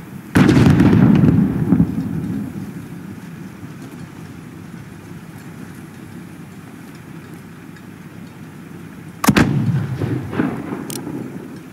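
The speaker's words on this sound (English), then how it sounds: "Alex, there is another Alcatala mortar team" A mortar team firing in a war setting: a heavy blast rings out and rumbles away into a faint, rain-like background. A second sharp blast comes near the end, followed by further crackling.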